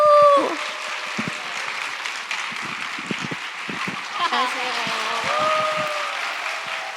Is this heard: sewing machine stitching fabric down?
no